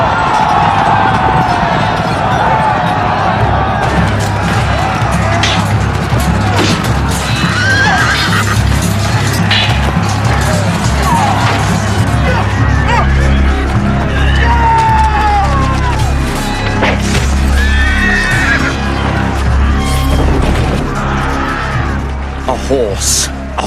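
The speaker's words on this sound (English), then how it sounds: "A horse." Loud, busy scene with horses whinnying and hooves pounding amid a dense clamor of crowd and battle noise throughout.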